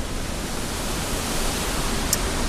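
Steady rushing roar of a waterfall near a viewing platform, loud and unbroken throughout, with a faint brief tick near the end.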